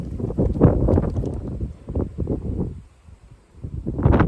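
Gusty outdoor wind in Portugal buffets the microphone in loud, rumbling waves, easing briefly near the end before rising again.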